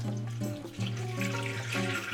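Tap water runs in a steady, close stream into the bowl of a kitchen appliance, its pitch shifting slightly as the bowl fills over a couple of seconds.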